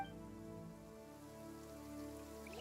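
Steady rain in a video game patters evenly and quietly, a soft continuous wash with a low tonal hum of background music beneath it.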